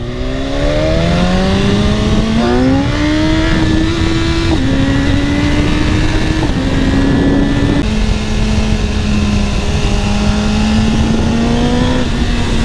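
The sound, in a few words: BMW S1000RR motorcycle riding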